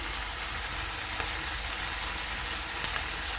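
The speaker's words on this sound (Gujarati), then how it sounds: "અને પછી હવે એમાં આપણે 2 તીખી મરચી નાખીશું" Green chillies dropped into gravy for matar paneer, with a steady hissing sizzle from the pan and a couple of faint clinks, close and continuous, no talk.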